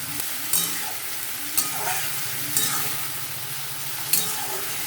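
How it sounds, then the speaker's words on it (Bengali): Ash gourd curry with salt and turmeric sizzles in a pan while a spoon stirs it, steady frying hiss broken by four regular scraping knocks, close and alone. "এটাকে আবার আমাকে নাড়াতে হবে এইভাবে ভালো করে মিশিয়ে নিতে হবে"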